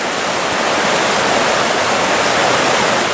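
Water spills over a waterfall on the Rose River in Virginia during a trout fishing outing, a constant, dense roar heard up close and unchanging throughout, with no speech.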